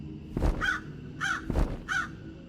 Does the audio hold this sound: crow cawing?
yes